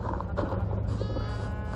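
A Minecraft sheep bleats in a wool farm, a short nasal game-animal cry repeated over a steady background, close and clear.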